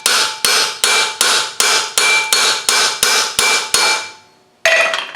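A hammer repeatedly strikes the fan on a TDI engine, about ten sharp, loud metallic blows in a steady rhythm, then a short pause before a final strike.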